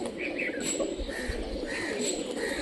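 Old-breed Giribaz pigeons from Rajshahi performing in flight, with soft cooing and chirpy calls over a steady outdoor rumble, fairly close, without talk.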